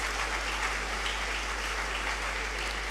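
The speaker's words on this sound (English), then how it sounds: "A round of applause as they come forward." Continuous round of applause from the audience at a university inaugural lecture, an even, dense clapping texture held steady at moderate level, with a low constant hum underneath.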